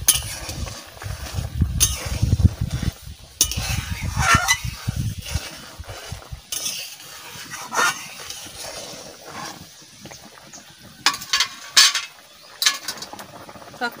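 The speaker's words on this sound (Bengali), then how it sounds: "আমি যে সর্ষেটা বাটা করেছিলাম ওই সর্ষেটা আমি এখন দিয়ে দেবো।" Mustard paste being stirred into a fish curry with raw mango in a pan, giving wet scraping and clattering sounds that come in bursts, loud at first and then lighter and more scattered.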